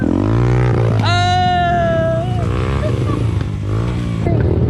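A trail motorcycle revs hard and loud up close, the engine climbing into a high rising whine, holding, then dropping back to a rough idle with clatter.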